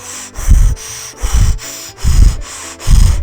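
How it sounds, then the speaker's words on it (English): A dressage horse with a partially paralyzed larynx breathing hard while moving, giving a harsh raspy roar with each breath. Four rhythmic whooshing bursts come close and loud over a constant hissy background. "She also has a partially paralyzed larynx, which is part of their voice box, so it makes a noise kind of like this"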